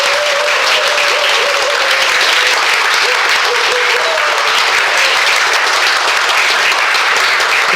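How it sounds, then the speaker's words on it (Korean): Sustained, loud audience applause at a public lecture on citizens' political participation in Busan, greeting the speaker as he comes forward; dense continuous clapping with a faint whistle-like tone early on, no talk over it. "큰 박수로 나와주시기"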